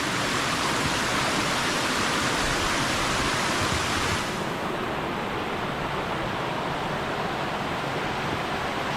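Stream water running over rock terraces formed by the water near Nežica spring, a steady, loud broadband rush with no pauses, heard alone and close.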